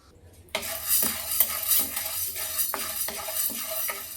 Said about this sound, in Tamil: திருப்பி நம்ம உளுத்தம் பருப்பு வறுத்துக்கலாம்.